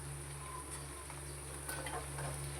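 Onions deep frying in hot oil until brown, a steady low sizzle with soft bubbling and occasional stirring scrapes, faint and close, with no talking over it.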